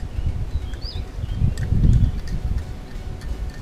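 Low rumbling wind buffets steadily throughout, swelling briefly in the middle, with a faint bird chirp high above.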